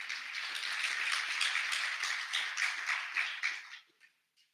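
An audience at a Caribbean business event applauds steadily and fairly quietly, the clapping dense at first, then thinning out and fading to silence.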